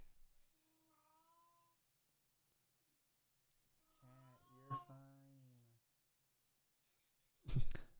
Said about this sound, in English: My cat's just over here like not having a time